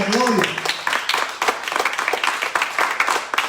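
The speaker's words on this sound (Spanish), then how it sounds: "den un aplauso al Señor, porque el Señor merece la gloria." A church congregation claps after being asked to applaud the Lord. A voice is heard briefly at the start, then scattered, uneven clapping follows, moderately close.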